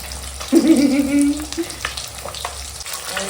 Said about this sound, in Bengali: দেখো এখন আমাদের মাছ ভাজা হচ্ছে আর মাছ ভাজি ভালো করে ভাজি